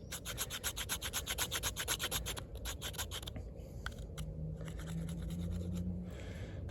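Rapid rhythmic scraping with the sharpening choil of a Za-Pas Modern Pukko XS knife in 80CrV2 steel, a fast rasping stroke series that slows to slower, scattered scrapes, close and continuous.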